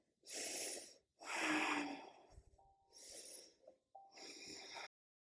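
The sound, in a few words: deep breathing while holding a yoga side plank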